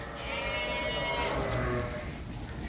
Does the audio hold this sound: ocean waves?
no